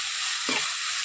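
Onions fry with salt and turmeric powder being mixed in, a continuous bright sizzle with one short scraping stir from a spoon, close and even.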